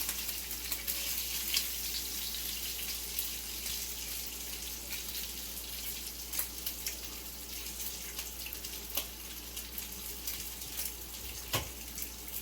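Bacon sizzling steadily in a pan, a dense continuous crackle with small pops, close and fairly loud, alone without talk.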